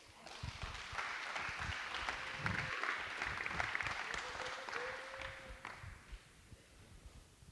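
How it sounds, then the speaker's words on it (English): A church audience applauds a speaker, a church planter, with sustained, even clapping from a crowd that fades out near the end, with faint voices underneath. "Now you can go ahead and clap for him"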